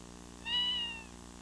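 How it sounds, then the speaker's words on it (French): A cat gives a single clear meow of about half a second, standing out against a steady low background hum. "Alors le chat a miaulé."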